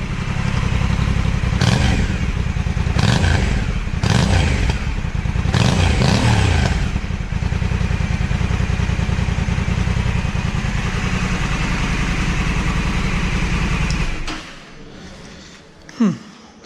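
A 2020 Honda Africa Twin Adventure Sports 1100 DCT with a 270-degree V-twin engine idles loudly and close with a steady lumpy beat, blipped several times, then shuts off, leaving quiet with a brief thump near the end.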